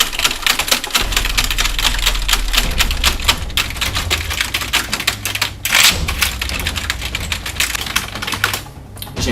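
Rapid, continuous keystrokes on a computer keyboard, close and loud, with crisp clicking taps running throughout and a low hum beneath.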